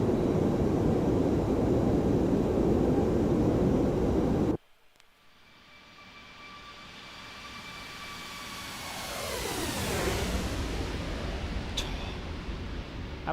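Airbus A340-600 in X-Plane 12 after takeoff: loud broadband engine roar cuts abruptly to a quieter cabin drone with steady high whines, then a tone sweeps down and back up as the noise swells again.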